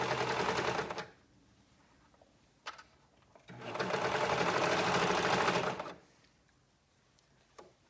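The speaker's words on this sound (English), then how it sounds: "So we can continue our sewing." A sewing machine stitches a dress in two close, loud bursts, one brief and one lasting about two seconds, with quiet handling clicks between them.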